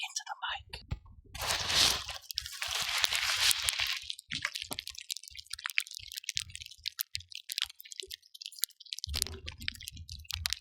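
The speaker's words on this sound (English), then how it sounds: "Now let's listen, folks, as I pour this milk. Take a listen into the mic." Milk poured over crispy rice cereal close to the microphone: a wet liquid pour followed by soft, scattered crackling and popping, faint and intimate, with brief murmured talk between the snaps.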